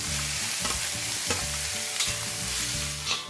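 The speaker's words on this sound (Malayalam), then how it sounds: "ഈ സവാള ഇതിലേക്ക് ഇട്ടിട്ട് വഴറ്റി കൊടുക്കാം" Chopped onions sizzle and fry steadily in a hot pan for an egg masala, with repeated scraping stirs of a spoon sounding close and loud throughout, no voices.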